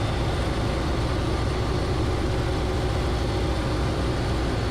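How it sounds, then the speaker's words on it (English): A police helicopter engine idles with a steady, dense mechanical drone and whine, loud and unbroken throughout, with no voices. "Engine idling, good."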